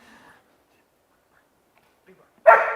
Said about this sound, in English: Where's that bark?